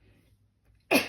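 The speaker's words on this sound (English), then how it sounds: "I'm about to sneeze." A single short, sharp sneeze bursts out at the very end after near silence, close and fairly loud.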